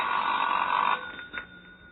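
An old telephone bell rings with a loud, continuous metallic jangle that stops after about a second, leaving a fading echo, heard in a narrow, band-limited older recording.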